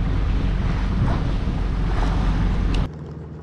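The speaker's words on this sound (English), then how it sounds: "we have been running by engine the last 5 hours" Sailboat motoring under engine power in windless conditions off Æbelø, Denmark: a steady low engine drone and hull-and-water rush mixed with microphone wind buffeting, continuous and fairly loud before dropping off near the end.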